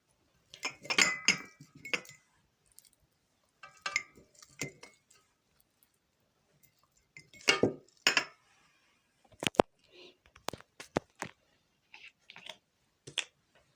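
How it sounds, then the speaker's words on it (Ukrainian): Pickled silver carp pieces are packed by hand into glass jars, giving several bursts of close clinks and wet squishes with quiet gaps between them. "Розкладаю рибку в баночки."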